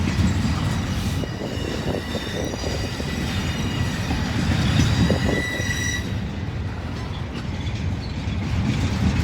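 Freight train passing close by outdoors, a steady loud rumble of rolling wagons with squealing wheels and metallic clatter running throughout, easing slightly near the end.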